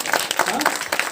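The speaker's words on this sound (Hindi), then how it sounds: "क्या हम ताली नहीं बजा सकते हैं?" Church congregation applause, a dense rushing clatter of many hands, with a voice speaking over it through the short burst.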